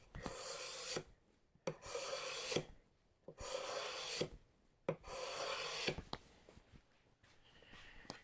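Card scraper working across coarse oak grain in rhythmic rasping strokes, five or six close, soft scraping passes each about a second long with brief pauses between, no talk.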